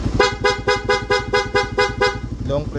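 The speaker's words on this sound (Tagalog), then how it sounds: "para magpalit sa loud horn, switch lang sa on" A loud horn on a carburetor-type Suzuki Raider 150 motorcycle, fitted with a Thai switch set, honks in a quick, rhythmic series of about nine close blasts before tailing off.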